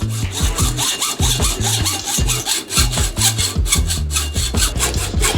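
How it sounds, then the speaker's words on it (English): Rapid, steady back-and-forth strokes of a hand saw cutting through a mountain bike fork steer tube on a dirt jumper build, loud and close, continuing without pause and with no talking. "we put the fork on the bike and marked off where we wanted to cut the steer tube"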